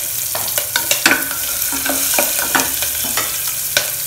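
Chopped ginger and green chillies with a pinch of hing fry in a pan, a steady sizzle broken by repeated scraping stirs and clacks of a spoon against the metal.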